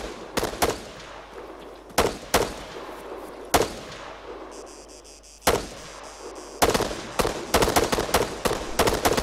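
Heavy gunfire in a military shooter game: sharp, loud shots in irregular bursts, spaced singles early on, then a rapid cluster of repeated shots toward the end, with battle ambience between.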